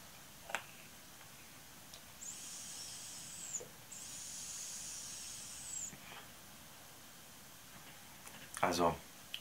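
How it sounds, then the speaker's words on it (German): Two long, steady vapour hisses come from an e-cigarette with a Kayfun atomizer fired at 10 watts. Each draw lasts about a second and a half, separated by a short gap, with faint clicks and a breathy exhale near the end. "Und den dampfe ich jetzt mal mit 10 Watt."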